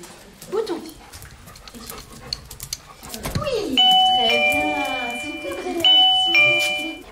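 A trained diabetes alert dog works with a person amid indoor commotion, with people talking throughout while an electronic chime sounds repeatedly in the second half.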